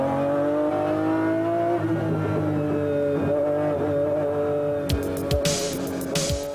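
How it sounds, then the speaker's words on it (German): Heavy, powerful McLaren F1 race cars howl at speed around a banked oval track, engine tones holding high and shifting, with a car blasting past and sharp bursts near the end. "Die schweren Wagen mit den mächtigen Motoren werden aufs Äußerste gefordert."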